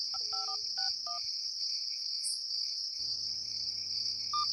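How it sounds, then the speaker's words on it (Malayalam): A telephone number is dialed in a rapid series of touch-tone beeps, then a ringback tone pulses steadily, with crickets chirping continuously in the background. "ആ ചൊറഷീദിനെ വിളിക്കാം. വിളിക്ക്"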